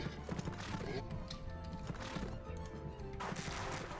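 East Asian horse archers gallop in a real-time strategy video game, with steady clip-clop hoofbeats, occasional whinnies and clashing combat sounds layered together under soft game music.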